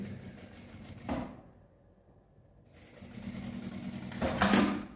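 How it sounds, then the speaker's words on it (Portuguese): A sewing machine stitches close to the edge of fabric, a near whirring hum running in two bursts separated by a quiet pause, the second growing louder toward the end. "vou só passar uma costurinha aqui, com muito na beiradinha"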